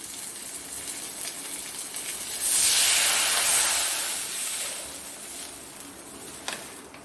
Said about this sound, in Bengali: এবার আমি জল দিয়ে দেবো বন্ধুরা এতে।